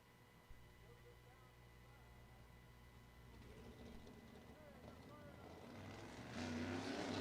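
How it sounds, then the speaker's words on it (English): A USAC sprint car engine fires and runs on track, starting as a low rumble and swelling louder toward the end, with a voice likely talking over it. "And the car will fire, and he is at speed here"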